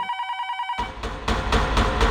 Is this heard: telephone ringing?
yes